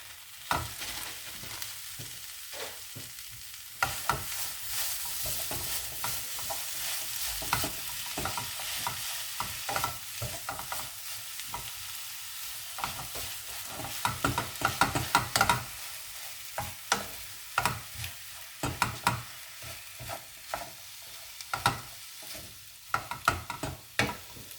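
Lean 7% fat mince sizzles and fries in a pan for a curried cottage pie, with a spoon repeatedly scraping and stirring through it, giving irregular clattering bursts over a steady close crackle; no voices.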